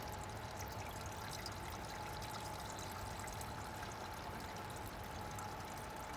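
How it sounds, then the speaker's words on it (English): Water driven by a small pump in an Arduino home-automation project fills a top bowl and spills down into lower bowls, making a faint, steady, continuous trickle with no speech. "It is filling up the top bowl, and it is pouring the water to the below bowls."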